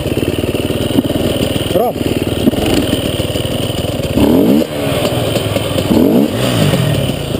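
An off-road motorcycle engine drones and revs up close with rising throttle bursts on soft ground, while people talk over it.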